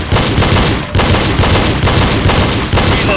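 Pistol shots in a reload drill, loud close reports in quick clusters with brief gaps between bursts where the shooter reloads, sharp and echoing.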